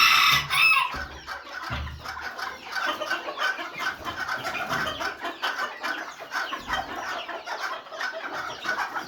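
A flock of chickens, including a Cochin, clucks busily and continuously close by, with cackling calls and a rooster-like crow mixed in, and no voices.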